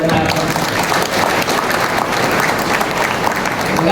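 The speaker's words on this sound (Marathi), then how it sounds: "जे संतोष सरांनी पुस्तक आता छापलं त्याच्यासाठी एकदा टाळ्या वाजवून त्यांना" At a book launch ceremony, a hall audience claps together for the author in a dense, steady burst of applause, loud and continuous throughout with a faint murmur underneath.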